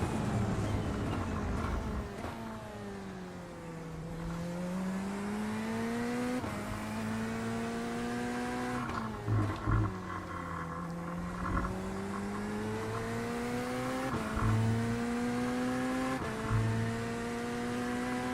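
A GT3 race car in a racing game at The Bend, its engine droning and revving loud and steady, pitch sweeping down and up through gear changes and throttle lifts across the run.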